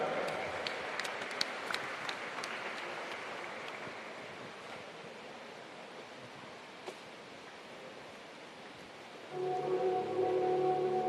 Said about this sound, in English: Please give another round of applause to Peter Deans from Otago.